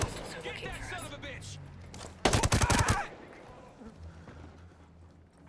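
A loud burst of rapid gunfire from the Ghost Recon Breakpoint video game rattles for under a second amid steady in-game ambience and low background rumble, with a voice speaking before it.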